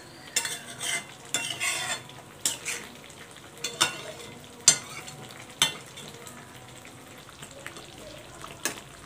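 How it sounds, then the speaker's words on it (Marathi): Stuffed bitter gourd sautés in masala in a pan. A spoon stirs and scrapes in irregular bursts over a soft, steady sizzle, close and moderately loud, with no voices. "कारले मस्त परतून घ्यायचे."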